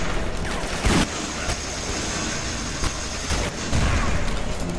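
Gunfire in a shooter video game, a few sharp shots and short bursts spread across a steady background of game noise, moderately loud with no talk.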